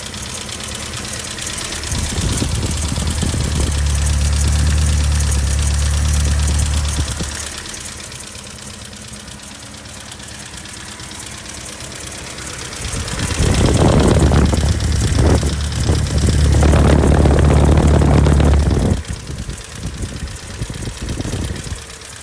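A 1.6 liter overhead cam Datsun engine runs under an open hood, a steady low mechanical hum with two louder revving swells, heard up close.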